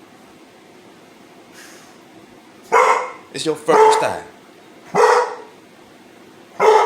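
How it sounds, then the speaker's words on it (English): Several pit bull dogs barking in short loud bursts, a few spaced volleys close by, with a person talking between them. "You're going to hear the dogs."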